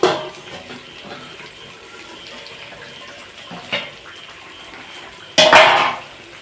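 A metal lid comes off a pot of spicy Tamil fish curry (kara meen kuzhambu), with a few soft clinks of cookware followed by a loud, close metallic clatter near the end.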